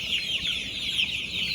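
Layer chickens in a farm shed cluck and squawk together in a dense, continuous chorus, agitated after a power cut, with no talk.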